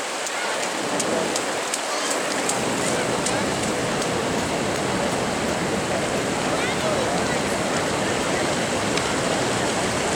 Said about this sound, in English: This is a really small creek normally, but it's not today.